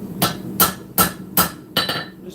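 Forging hammer striking a hand-forged short spear on an anvil, five loud, evenly spaced ringing blows close by, each with a bright metallic clang that decays quickly.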